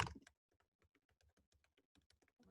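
Fingers type a web address on a computer keyboard in a quick, irregular patter of light key clicks, close and soft, after a brief louder bump at the start; no one speaks.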